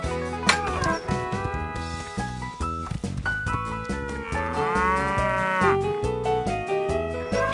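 Cartoon cows in a children's animated Clifford the Big Red Dog episode moo over and over, loud and clear against a busy musical score, with long drawn-out lowing calls rising and falling throughout.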